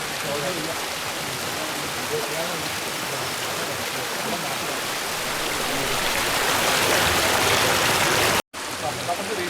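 Steady broadband rush of a forest waterfall on the Agastyarkoodam trek, continuous and fairly loud throughout, with a brief dropout near the end.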